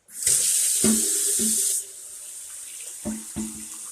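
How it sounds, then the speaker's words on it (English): Tap water gushes into a cooking pot for Hoppin' John with black-eyed peas. A steady hiss runs for about a second and a half, then stops, followed by a few light clunks of the pot. "let's put some water in here"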